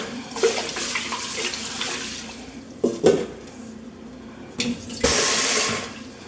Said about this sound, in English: it says to rinse it twice. That way you keep some of the starch.